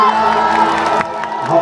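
A large crowd at a public event cheers and claps in a continuous dense roar, loud and close, with whoops rising out of the noise.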